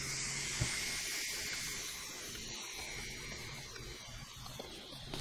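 Steam hisses out of the valve of an EasyPot electric pressure cooker: a steady, fairly faint airy rush that holds evenly for several seconds, with no talk.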